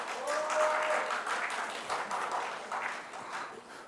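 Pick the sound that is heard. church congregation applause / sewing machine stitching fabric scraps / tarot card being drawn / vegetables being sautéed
church congregation applause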